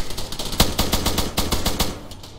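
Airsoft guns firing during a milsim game outdoors, rapid bursts of sharp automatic clicks and pops in quick succession, fairly close and loud, with no talking over it.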